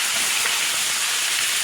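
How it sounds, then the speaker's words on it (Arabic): Chicken thighs sizzle in hot butter and oil in a pan, a steady, bright, close hiss that stays even throughout with no other sounds. "انا نزلت بالوراك اهي على حته الزبده والزيت"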